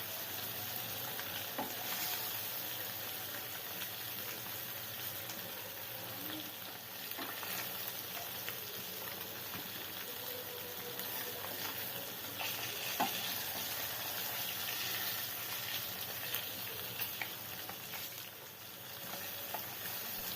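Tilapia fish frying in hot oil in a pan gives a continuous close sizzle, with occasional stirring scrapes and small pops and no talk.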